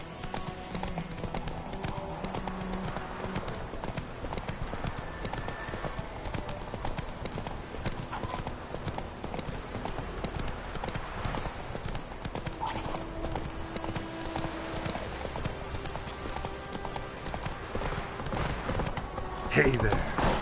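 Roach the horse galloping in The Witcher III game, with steady rapid hoofbeats clip-clopping throughout, occasional snorts and a voice talking over them.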